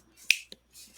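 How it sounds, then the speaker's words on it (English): Finger snaps ring out close and crisp, three or four sharp clicks in quick irregular succession within about a second, with nothing else around them. "You can snap your fingers to it if you want."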